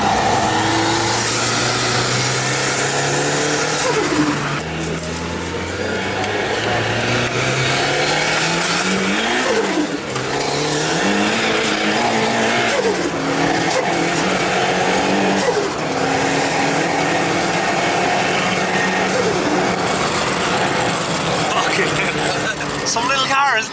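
A car engine revs hard again and again, its pitch climbing and falling, with high tire squeals over the steady roar and people talking.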